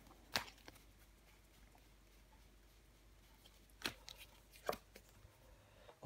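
A tarot card is laid down over another card in a quiet room, giving a few faint, sharp taps and slaps with long silent gaps between them.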